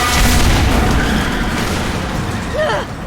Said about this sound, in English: A head-on collision at this speed.